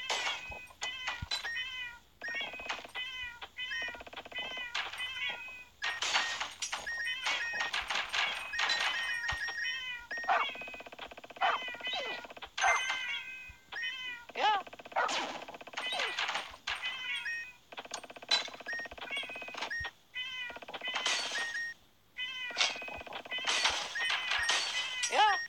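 Cat meowing repeatedly in a busy, cluttered scene, short bursts of meows coming close together with brief pauses, mixed with occasional clattering and a few thumps.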